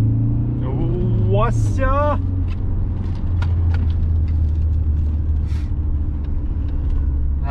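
Audi A4 B7 2.0 TDI with a 140 hp diesel pulling away from a stop and driving, a steady low engine and road rumble throughout, with a voice calling out briefly near the start.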